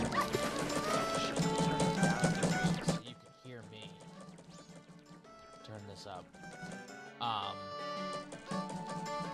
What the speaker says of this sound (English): The dog hates Deku Link